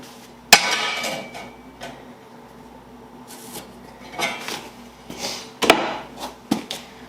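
Several sharp metallic whacks ring out as angle iron is hammered at irregular intervals, a few loud strikes separated by quieter clanks and handling noise.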